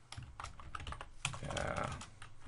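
Fingers tap out a quick run of keystrokes on a computer keyboard, light clicks in an irregular rhythm, close and fairly quiet, with no voices over them.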